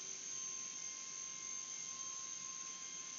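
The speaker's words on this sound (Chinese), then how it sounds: "出来的声音就像那个什" A small toy gives a steady high electric whine and buzz, much like a remote-control airplane, constant and fairly faint for the whole stretch, with no talk.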